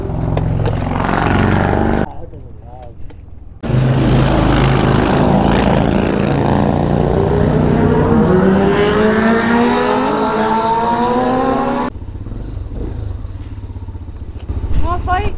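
Engine of a 2020 Hellcat Raptor 125cc motorcycle, a Grom clone fitted with a pod air filter, on a mud and road ride: loud, close revving that climbs steadily through the gears, with brief quieter gaps and some talk.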